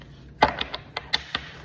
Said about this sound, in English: let me straighten up these cards and give it a good shuffle